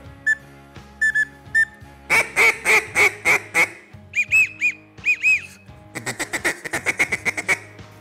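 Several hen-duck imitations from a duck call blend together, with sparse single quacks, then a run of nasal honking notes, a few rising whistles, and a quick chattering series of quacks at the end, all close and clear.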